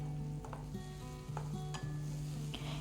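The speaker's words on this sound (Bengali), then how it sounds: "সমস্ত জিনিসগুলো দিয়ে দেওয়ার পর এভাবে কষতে থাকবো" Ginger-onion paste and tomato for a Katla fish curry sizzle steadily in a pan, with a spatula scraping and stirring now and then, close and continuous with no voices.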